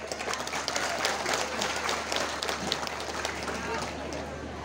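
An audience at an international pesantren conference breaks into sustained applause, a dense wash of clapping with a crowd murmur beneath it, steady and moderately loud throughout.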